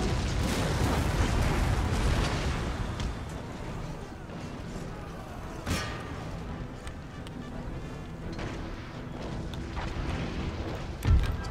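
Artillery fire during a siege of Malta in Empire Total War, a dense rumbling barrage of distant booms with a couple of sharper blasts standing out, continuous battle noise throughout.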